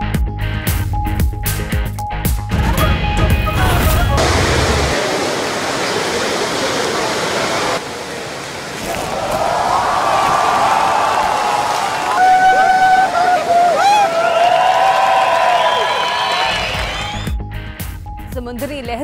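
Sea waves crash during a surfing contest in South Africa, a loud, rushing roar that surges and eases in waves. A voice narrates over it for much of the time.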